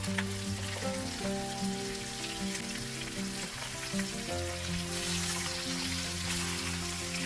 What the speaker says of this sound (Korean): 고등어를 뒤집어 두꺼운 쪽으로 기울여가며 고루 익혀주는데요